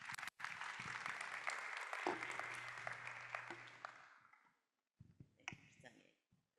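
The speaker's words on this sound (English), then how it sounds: "Another round of applause to Dr. Nardos." Audience applause for a speaker at a youth lab kickoff ceremony in Addis Ababa, Ethiopia: dense clapping for about four seconds, mixed with some voices, fading out before a few scattered claps near the end.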